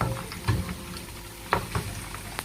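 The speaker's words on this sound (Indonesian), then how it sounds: "Nah ini saya goreng dulu utuh begini, aku goreng sampai dia layu sedikit, baru nanti digiling." Whole garlic cloves and shallots fry in a pan, giving a light, steady crackle with a few sharper pops and spatters.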